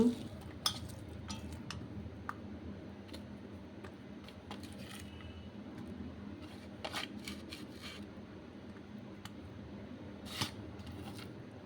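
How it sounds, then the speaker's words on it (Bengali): Knife chopping tomato and onion on a board for an egg Maggi paratha, giving scattered sharp close taps and scrapes over a low steady kitchen hum, with no clear talk. "এই যে একটা টমেটো এইভাবে কুচিয়ে দিতে হবে"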